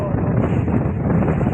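Strong wind during a rainstorm in Rajula roars and buffets the microphone, a dense, loud, continuous rush with no break.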